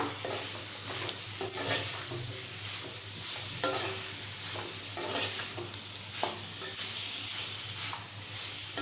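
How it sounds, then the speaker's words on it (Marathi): Ginger-garlic paste sizzles steadily in a hot pan while it is stirred into a drumstick, brinjal and potato curry with fresh coconut and coriander, the hiss broken by soft scraping strokes that repeat at an uneven rhythm. "आलं लसूण ह्यांची पेस्ट केलेली आहे ती घालूया दोन तीन चमचे छान मिक्स करून घेऊया"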